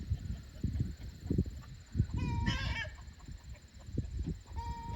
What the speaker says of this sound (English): There's maybe only 3 chickens out.